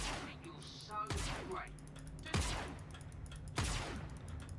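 Turret gunfire in the Star Citizen space game, three or four heavy booming blasts spaced about a second apart under ongoing hum, with a voice speaking in between.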